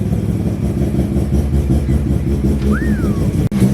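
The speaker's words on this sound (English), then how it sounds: "Already that turbo is so much quieter. Keen to drive with it. Already even revving it." A turbocharged Mazda RX7 engine running loud and steady nearby, a low rumbling drone with a brief whistle-like rise near the end and a short dip.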